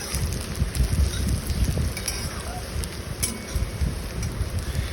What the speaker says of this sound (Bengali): এবার আমি কড়াইয়ে পেঁয়াজগুলো ভেজে নিচ্ছি।